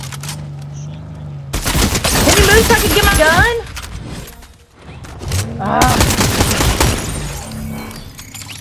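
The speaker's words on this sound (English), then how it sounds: "Would you stop shooting at me, Brian?" Rapid bursts of gunfire from Fortnite, with volleys of shots and cracking impacts in two loud clusters and quieter gaps between them, while people talk over the action.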